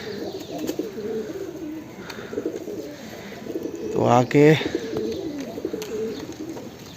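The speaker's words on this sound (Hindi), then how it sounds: "देखिए ये बाहर का कबूतर है।" A wild pigeon outdoors on a cold, foggy day gives a loud, near coo over steady background noise, while someone talks in Hindi throughout.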